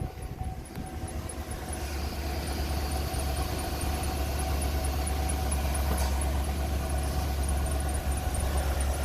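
A 2008 Chevrolet Avalanche 4X4 engine, raised for hub work, runs at a steady low idle throughout, with a constant rumble and a faint high whine over it and no speech.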